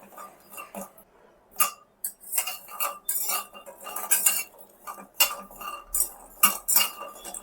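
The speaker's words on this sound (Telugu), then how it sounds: "ఇవి సిమ్లోనే పెట్టి వేయించుకోవాలండి" Jackfruit seeds roast in a pan on low heat. They rattle and clink against the metal in repeated scraping bursts as they are stirred, close and fairly loud.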